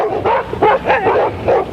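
Racing sled dogs at the Iditarod bark and yip in a loud, close chorus, with several overlapping barks in quick succession and no talk.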